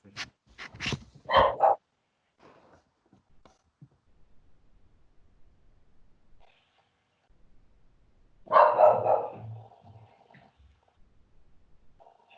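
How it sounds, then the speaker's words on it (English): A dog barks in the background: a quick cluster of barks at the start, then another burst of barking a few seconds later, with near silence between. "I hear a dog in the background too"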